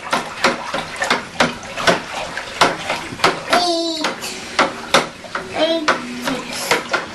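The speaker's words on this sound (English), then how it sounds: "I'm going to want to take my spoon and kind of rough it up" A spoon roughs up grape must in a fermenting bucket, making steady, rhythmic scrapes and wet sloshes about every half second. A voice talks faintly underneath.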